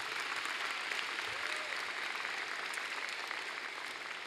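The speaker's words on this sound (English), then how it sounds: "Let's give them a round of applause." Steady, dense applause from a crowd at a college championship celebration, an even wash of clapping holding at a constant level with no talk over it.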